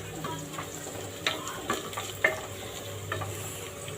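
Onions fry in a 5-litre pressure cooker, a close steady sizzle punctuated by a few sharp metallic scrapes and taps of a ladle stirring.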